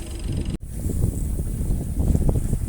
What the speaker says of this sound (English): We're in Plymouth Sound and sailing now.